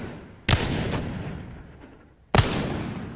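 Wingman pistol fired from the hip in Apex Legends, two sharp, loud shots nearly two seconds apart, each followed by a decaying echoing tail.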